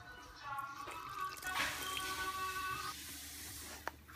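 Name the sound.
hot water poured into dough mixture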